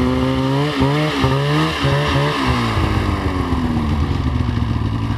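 A Ski-Doo 800 Dragon snowmobile engine climbs a small hill, loud and close, with the revs rising and falling in quick bursts before settling into a steady high whine.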